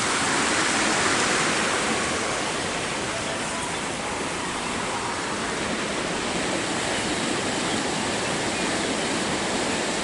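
River water running steadily at a slightly higher level than usual, a dense continuous rushing wash that stays even and fairly loud throughout, with no voices.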